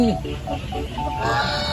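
Chickens cluck at a farm coop near a goose pen, with a few short, close calls and low clucks over a brief stretch of background murmur.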